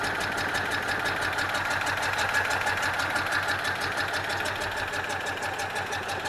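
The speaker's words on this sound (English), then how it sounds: "But the engine's lovely. Quite quiet for a 2CV" Citroën 2CV air-cooled twin idling steadily, a fast, even chattering pulse with a sewing-machine quality, close and continuous throughout without pauses.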